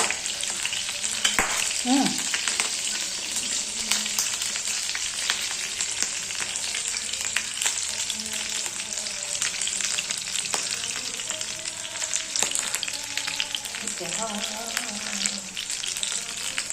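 Green chilies fry and crackle in a pan while being stirred, a dense steady sizzle broken by frequent scraping and clinking of a utensil against the pan, with no one speaking.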